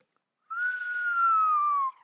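A single human whistle, a sustained clear tone that slides slowly downward for about a second and a half, faint and close against silence.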